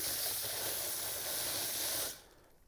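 Steady loud hiss of a water spray rinsing out a bass boat compartment, continuous for about two seconds before cutting off abruptly into quiet.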